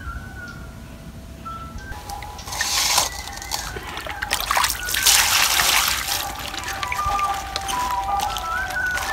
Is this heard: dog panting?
no